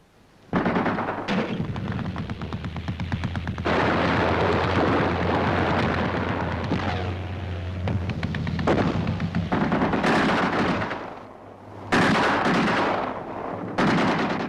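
Infantry section firing self-loading automatic rifles and light machine guns, loud sustained bursts of gunfire with sharp cracks and pauses, dense and close throughout.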